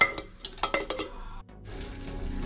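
Onion masala sautéing in a pan for Kabiri rice, with scraping and stirring clatter over a steady low sizzle, a brief quiet gap, then continuous frying noise close by.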